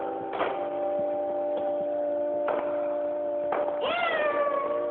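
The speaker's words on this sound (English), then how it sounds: "I stepped on my cat's tail." A cat yowls after its tail is stepped on, giving several drawn-out, wavering meows in a row, loud and close, ending in a rising caterwaul, with a faint ticking clock in the background.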